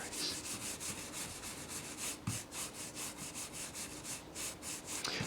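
Black ink being scrubbed onto a wooden Japanese printmaking block: a brush makes a steady, rhythmic back-and-forth rasping of about three strokes per second, close and even, with no talking.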